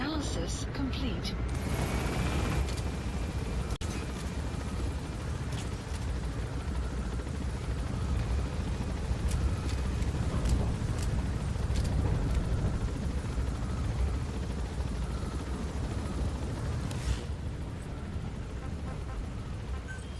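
A helicopter gains altitude in the Metal Gear Solid V video game, a steady rumbling rotor drone filling the whole stretch with a brief burst early on, overlaid with game sounds and occasional voice.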